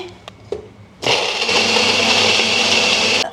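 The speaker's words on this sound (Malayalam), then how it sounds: "നമുക്ക് ഇതിലേക്കിട്ട് നമുക്ക് ഷേക്ക് അടിക്കാം നമുക്ക് ഇതിനകത്ത് ഷുഗറും കൂടി ആഡ് ചെയ്യാം" An electric blender whirs loudly and steadily, blending a musk melon milkshake with sugar, after a few soft knocks and taps at the start.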